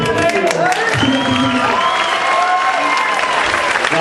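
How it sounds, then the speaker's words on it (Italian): Audience applause for Christmas zumba fitness performers, a steady wash of clapping with some cheering and voices talking over it. "io farei un applauso per"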